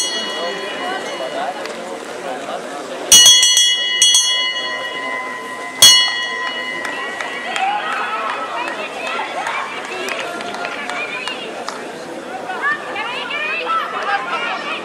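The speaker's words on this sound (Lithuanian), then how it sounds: "Taip skamba gongas." A gong rings out twice, clear and metallic, to mark the final lap of a men's 1500 m track race in Kaunas, over continuous crowd noise and a commentator's talk.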